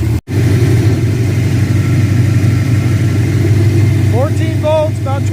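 A car being revived after 27 years, with a failing fuel pressure regulator, idles at about 1200 RPM with a loud, steady, close-up engine rumble, joined near the end by a few high chirping squeaks.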